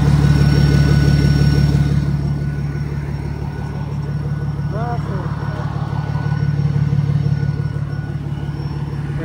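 A tuned BMW 335d diesel idles with a steady low rumble close by, while people talk casually over the engine.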